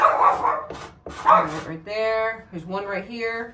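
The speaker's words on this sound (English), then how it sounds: "That's my dog." A pet dog barks and yips inside a house during interior painting work, a few sharp barks and whines in the second half of the clip, following someone talking.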